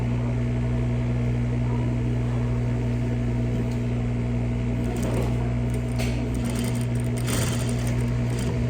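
A sewing machine stitching fabric runs in a continuous loud mechanical hum with a steady pitch and faint clicks, alone with no talking.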